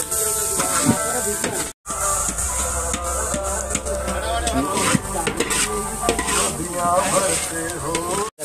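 Cumin seeds and chillies sizzle steadily in hot mustard oil, with a loud continuous crackling hiss, spoon stirring and occasional clinks against the pan, while a voice speaks over it.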